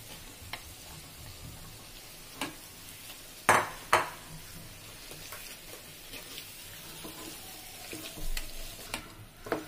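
Mashed potato is stirred into frying masala for aloo cutlets, a soft low sizzle under irregular scraping and a couple of louder spoon knocks against the pan, with no talking.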